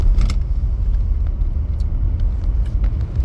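Cars move fast along a busy road, giving a continuous loud, close rumble of passing vehicles with no voices.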